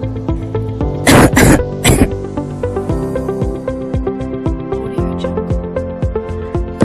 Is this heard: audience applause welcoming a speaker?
no